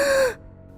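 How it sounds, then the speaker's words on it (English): A woman gasping as she wakes, one short sharp breathy intake, loud and close, then quickly cut off into near silence. "She woke up with a gasp,"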